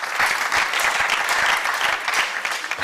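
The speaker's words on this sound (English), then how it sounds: "Another round of applause for our lecturer." An audience at a leadership lecture event applauds the speaker, a short burst of dense, lively clapping heard close and loud throughout.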